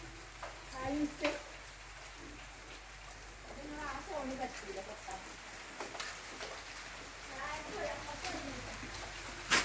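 A home artificial rain system sprays water in a steady, even patter and hiss, with soft pigeon coos scattered through it and a voice talking.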